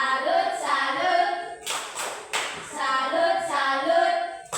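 A primary school class gives a rhythmic clapping salute for a student, two quick bursts of hands clapping between stretches of children chanting together in unison.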